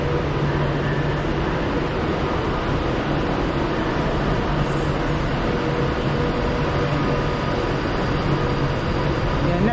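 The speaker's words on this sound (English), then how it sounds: "Off goes the 1441 Avanti West Coast service to Glasgow Central." An Avanti West Coast train pulls out of Preston bound for Glasgow Central, giving a steady, dense rumble and rolling noise that holds at an even level throughout.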